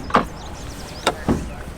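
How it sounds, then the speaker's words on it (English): The split tailgate of a 2020 Ram Rebel EcoDiesel swings open like a barn door with a few short, close latch clicks and clunks, one at the start and two near the end, with quiet between. "this is the new kind of split tailgate that allows you to open it not just the traditional way, but also by pushing this button like a barn door"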